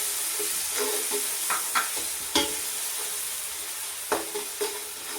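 Ginger garlic paste frying in a pan for chicken biryani, a constant hiss under several sharp scrapes of a spoon stirring the paste.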